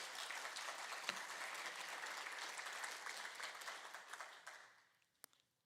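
A church congregation at a Unitarian Universalist worship service applauds in a steady, full burst of clapping that fades out to a few last scattered claps.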